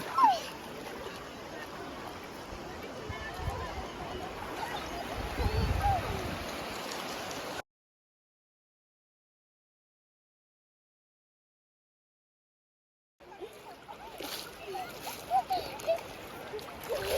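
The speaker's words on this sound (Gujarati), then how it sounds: "આવ્યું પાણી." Sea waves splash and wash up on a beach: a broad, rushing surf noise with a few louder surges, cutting out to silence midway before the splashing returns.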